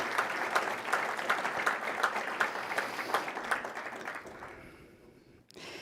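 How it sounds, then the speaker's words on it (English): Audience applause at a scholarship gala honoring students, a dense crowd clapping with distinct sharp claps standing out, then thinning and fading out near the end before a brief sound at the close. "Another round of applause."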